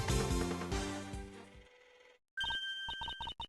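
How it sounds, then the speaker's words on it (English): A cell phone rings in the Ace Attorney Investigations 2 video game: after a stretch of game music, a short tonal ringtone sounds in repeated bursts and stops near the end. "Judge Courtney's cell phone is ringing"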